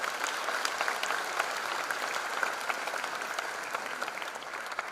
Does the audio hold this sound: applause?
yes